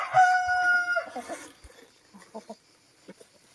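Free-ranging chickens in a forest clearing near a coop, with a rooster crowing loudly in one drawn-out call at the start, followed by scattered soft clucks and rustling as the birds forage on wet ground.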